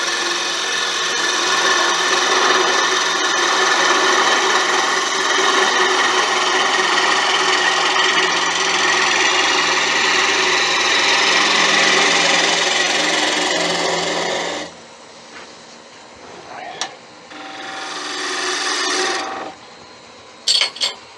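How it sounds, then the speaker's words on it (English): Spindle roughing gouge cutting a spinning wood blank on a lathe, a steady loud rasping hiss running continuously for about fifteen seconds before dropping away to quieter scrapes and brief contacts. "I'm just going to give it another run of the roughing tool, spindle roughing gouge, just to make sure it's running through."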